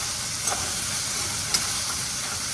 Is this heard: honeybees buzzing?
no